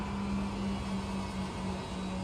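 Racing car engine from the Le Mans Ultimate sim racing game, a steady low drone held at constant pitch, faint and even with no talk over it.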